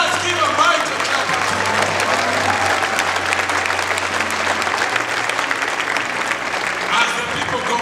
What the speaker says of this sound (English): Let us give a mighty clap.